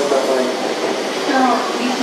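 A Yamabiko and Tsubasa Shinkansen, E2 series 1000 coupled with a wrapped E3 series 2000, arrives at a Tokyo Station platform, its steady rumble and whine running under a platform announcement.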